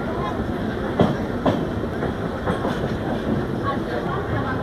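A local train runs on the rails leaving Kalyan, heard from inside as a steady loud rumble with rhythmic clickety-clack wheel thumps over rail joints.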